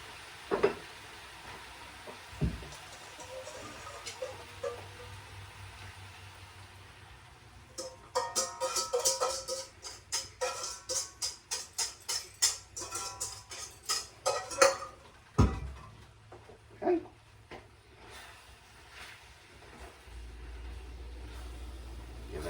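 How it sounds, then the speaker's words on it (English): Beef and peppers being stirred with sauce in a pan, a spoon scraping and clinking in quick rhythmic strokes for several seconds amid a faint low sizzle, fairly soft and close. "Stir, make sure it all gets mixed in, incorporated."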